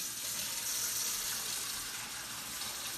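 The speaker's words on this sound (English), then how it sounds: "We're going to be filling this up with water." Fresh water runs steadily into an Enagic Kangen water machine being filled for deep cleaning, a close, even gushing hiss that stays constant throughout with no voices.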